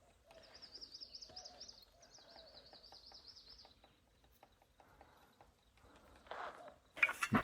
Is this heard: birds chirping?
yes